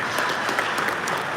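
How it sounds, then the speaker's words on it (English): An audience at a traditional rulers council session in Akwa Ibom gives dense, sustained applause for a governorship candidate, loud and close with no break. "Please can we give him a round of applause?"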